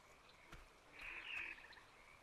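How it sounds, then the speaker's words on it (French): A frog in the survival game Ark Survival Ascended croaks faintly in a short trilled call over quiet background noise, with a couple of soft thumps nearby. "Non, c'est une grenouille."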